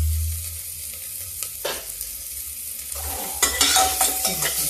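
Onion and ginger fry over a low gas flame in a pan, a soft sizzle broken by scraping stirs that grow busier and louder toward the end.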